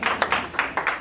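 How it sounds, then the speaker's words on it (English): An audience at a VFW veterans' post show claps in a few quick, close bursts of applause that rise and fall within about a second. "Let's hear it by applause if you served in the Army"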